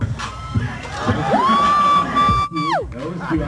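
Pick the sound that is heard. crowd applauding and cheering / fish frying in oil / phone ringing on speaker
crowd applauding and cheering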